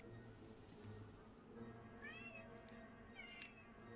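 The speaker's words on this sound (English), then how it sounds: "I hear you, kitty." A cat meows indoors, two or three drawn-out, rising-and-falling cries in the latter half over a low background hum, moderately close and fairly quiet, with no one talking.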